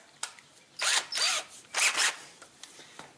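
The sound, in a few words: power drill drilling a hole through wood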